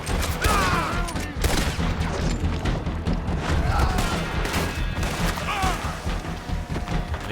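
Sustained rapid gunfire in Red Dead Redemption 2, dense volleys of shots and booms running throughout the firefight, with a voice speaking briefly over the din.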